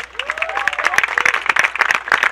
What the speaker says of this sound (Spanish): Él es Atsushi Gomi, así que les pido un fuerte aplauso para él.